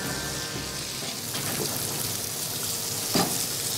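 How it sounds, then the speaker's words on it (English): Carrots and Swedish turnips sautéing in butter in a pan, a steady close sizzle and crackle with a brief stir or clink near the end, no talking. "the chef prepares a side dish of carrots and Swedish turnips sautéed in butter"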